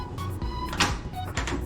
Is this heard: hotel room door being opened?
yes